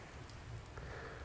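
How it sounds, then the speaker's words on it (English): Rain falls in the virtual-reality game cyubeVR as a soft, steady hiss of drops with no voices over it. "It's getting very foggy up here because it's raining."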